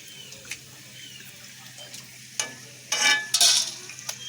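Sago pearls frying in a pan for a crunchy tea-time snack with nuts, heard as a faint crackle early that turns into louder bursts of sizzling and stirring near the end, with no talking.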